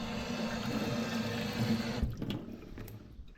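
Fish being rinsed under a running kitchen tap, a steady stream of water splashing close by, cutting off after about two seconds into quieter drips and handling noises.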